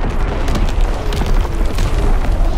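Heavy booming blasts of an artillery strike in the Call of Duty: WWII airship map, a dense continuous rumble of explosions filling the whole stretch, loud and close.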